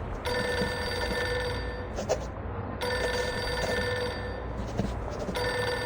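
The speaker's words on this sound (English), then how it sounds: "Pick up the phone already." A telephone rings in Reverse: 1999, a steady electronic ring repeating in three long bursts with short gaps, loud and close with no talk.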